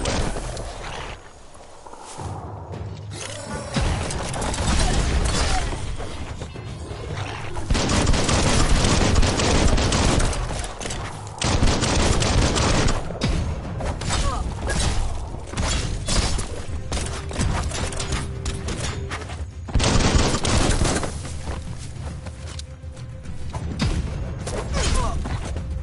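Heavy gunfire rattles through Biomutant gameplay on a PS4 Slim, dense bursts and volleys filling nearly the whole stretch, loud and continuous with brief lulls, mixed with clattering game effects.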